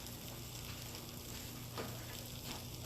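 Cheese chaffle cooking for a keto McGriddle, giving a steady, soft sizzle and hiss throughout with no talking, even and continuous at close range.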